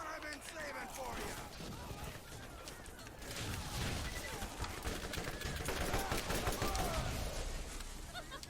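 Rapid gunfire from the video game Borderlands Remastered crackles in dense bursts, growing louder midway, mixed with game effects and faint voices.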